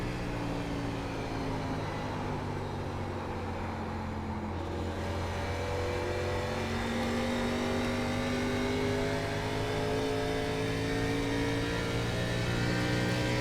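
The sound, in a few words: NASCAR truck engine revving in iRacing video game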